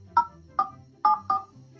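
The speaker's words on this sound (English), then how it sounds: "Using the telephone keypad, please key in your date of birth using a 6-digit format." Four short telephone keypad tones are entered as a date of birth on a phone menu, each beep clear and isolated with brief pauses between presses, and no talking.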